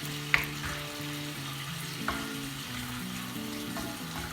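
Monkfish pieces and mushrooms with red pepper powder being stirred in a hot pan, a continuous sizzle broken by a couple of sharp utensil scrapes, close and with no voices.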